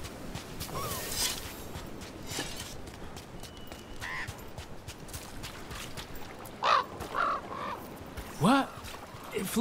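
A crow in the video game Dragon Age: The Veilguard caws several times in short, harsh bursts over a busy, steady game soundscape.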